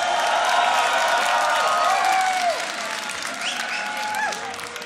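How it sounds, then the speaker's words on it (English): Crowd applause and cheering at a beatbox showcase battle, loud, dense clapping with whoops and whistles rising above it, easing slightly in the second half. "One more round of applause"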